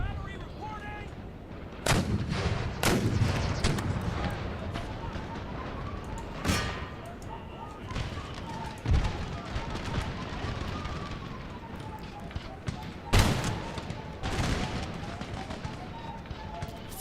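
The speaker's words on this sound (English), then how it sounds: "Finally, a volley from the Spanish after a while." Spanish musket volleys ring out in Empire: Total War, a series of loud, sharp cracks scattered across the battle over a constant rumble of battlefield noise.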